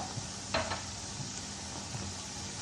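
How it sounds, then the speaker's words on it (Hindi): Chicken liver kaleji roasting in a pan gives a steady, close sizzle throughout, with a brief utensil scrape partway through. "ये देखें ये कलेजी अब भुनने पे आ गई है"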